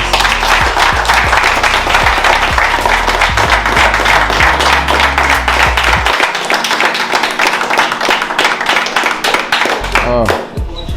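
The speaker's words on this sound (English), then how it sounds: "I will give him a round of applause." A round of applause, with dense steady clapping for about six seconds, then fading to scattered claps while voices carry over the noise.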